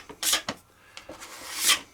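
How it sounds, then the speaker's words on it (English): Sandpaper rubs the flat faces of a wooden hull for a Blazer Backlash gas hydro R/C boat: a few short, close scraping strokes, then one longer rasping pass, quiet between strokes. "sand the faces,"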